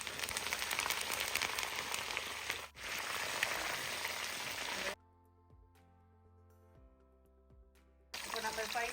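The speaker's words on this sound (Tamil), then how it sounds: "மிதமான சூட்டில் அழகாக நம்ம வறுத்து எடுப்போம்" Prawn pakora and curry leaves fry in hot oil over medium heat, a dense close crackling sizzle that cuts out briefly, gives way to a quieter stretch with faint ticks, then bursts back loud at the end.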